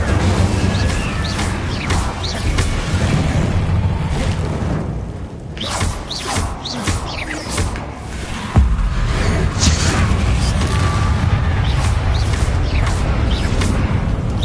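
A fire spell cast in the Hogwarts Legacy video game, a loud stretch of crashing, booming and whooshing effects that surge and break off in bursts, with a sharp impact partway through.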